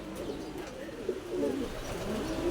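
Racing pigeons coo in their loft after returning wet from rain, a low, continuous murmur of soft throaty calls close by.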